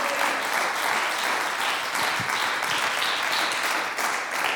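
A church congregation applauds for Jesus during a Portuguese-language sermon, with dense, steady clapping that fills the room at even loudness throughout.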